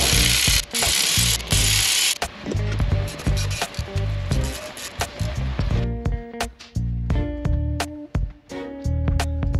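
A power tool drives and tightens the front differential cover bolts on a 2019-or-later Chevrolet Silverado 5.3/6.2, in loud bursts of rattling whirring separated by brief pauses, with a metallic ratcheting texture.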